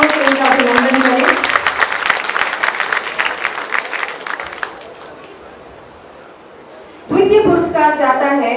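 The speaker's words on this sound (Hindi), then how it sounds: "जोरदार तालियों से इनका अभिनंदन करें" Applause from the audience at a Hindi Diwas prize ceremony as a third-prize winner comes to the stage, a dense burst of clapping that fades out, followed by a voice speaking close to the microphone.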